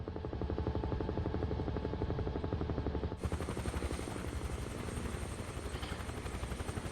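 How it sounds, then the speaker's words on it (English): A helicopter in Microsoft Flight Simulator, its rotor producing a loud, steady rhythmic chopping drone throughout, with the texture brightening and turning harsher partway through as the engine sound shifts. "controlling a helicopter very badly here"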